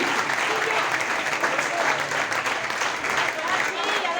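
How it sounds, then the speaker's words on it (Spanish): A church congregation at an evangelical sermon breaks into sustained, dense applause, a steady wash of many hands clapping at once, with voices mingling in the crowd. "¿Cuánto aplauden para Cristo?"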